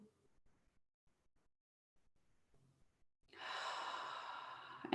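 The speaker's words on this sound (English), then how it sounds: "take a big breath in" After a few faint rustles, one slow, deep breath drawn in close to the microphone, a steady airy inhale lasting nearly two seconds in an otherwise quiet room.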